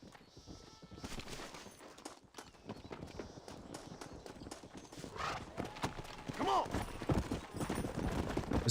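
A horse in the Red Dead Redemption video game clip-clops steadily at close range, with a short whinny partway through over a busy, noisy background.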